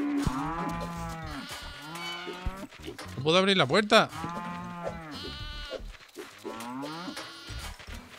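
Cartoonish cow in the video game Moving Out 2 lowing repeatedly, several drawn-out moos of rising and falling pitch, one louder and more strained in the middle, with someone talking over it.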